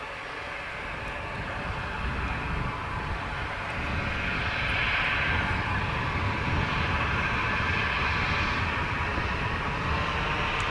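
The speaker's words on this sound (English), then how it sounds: "So Ryanair off to Edinburgh, just cleared to roll." Ryanair jet airliner at Dublin Airport beginning its takeoff roll on the runway, a steady broad engine roar that swells gradually as power builds, heard from a distance and sustained without talk.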